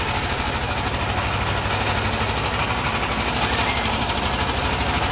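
A dune buggy engine running in first gear, a steady loud rattling drone with a fast even pulse and constant vibration, with no voices over it.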